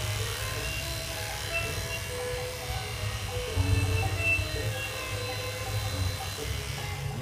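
An electric clipper shaving the coat of a Spitz dog during grooming, a steady low buzzing hum running throughout, close and even, with slight shifts as the blade moves through the fur.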